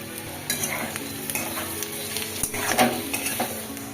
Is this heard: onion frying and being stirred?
yes